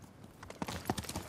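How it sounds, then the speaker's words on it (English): A horse's hooves clip-clop as it gallops up after being called in Ghost of Tsushima, a short burst of quick, fairly close hoofbeats. "Okay, I need also to call my horse, Nobu."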